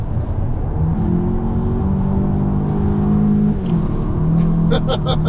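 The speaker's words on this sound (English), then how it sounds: "Just spins the tires" A VW Arteon Shooting Brake plug-in hybrid wagon's engine roars steadily on the Nürburgring as tires spin and whir under hard acceleration, loud and close throughout, with a faint voice briefly near the end.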